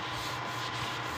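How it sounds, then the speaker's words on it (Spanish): Steady, even hand sanding of a wood finish on cabinet drawers, a continuous dry rasping scrape that holds at a constant level for the whole span with no pauses. "nada más es puro lijar"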